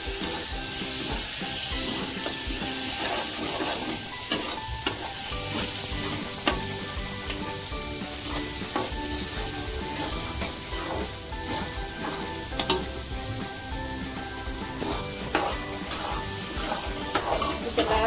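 Egg bhurji with onion, tomato and spices sizzles steadily in a pan on a high flame, with a spatula repeatedly scraping and clinking as it is stirred, close and continuous throughout.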